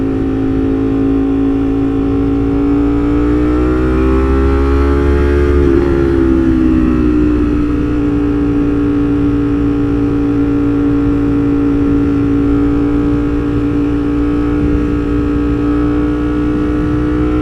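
Ducati motorcycle ridden through Houston streets, a loud continuous engine hum that rises in pitch around a brief acceleration then falls back to a steady cruise, close to the rider with no talk.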